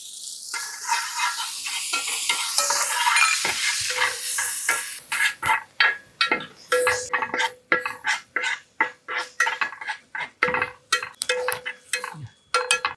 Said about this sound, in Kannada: ನಮ್ಗೆ ಯಾವಾಗಲೂ ಈರುಳ್ಳಿ ಜೊತೆಗೆ ಶುಂಠಿ ಬೆಳ್ಳುಳ್ಳಿ ಪೇಸ್ಟ್ ಹೋದರೆ ಅದರ ಮಜಾನೇ